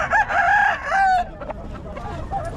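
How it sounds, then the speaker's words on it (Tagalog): A brood cock rooster crows close and loud in two drawn-out calls at the start, followed by softer clucking and background chatter. "brood cock daw ni boss."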